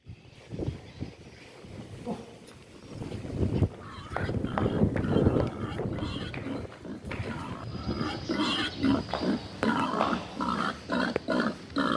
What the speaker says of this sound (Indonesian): Seekor anak babi